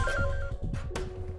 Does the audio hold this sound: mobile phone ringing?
yes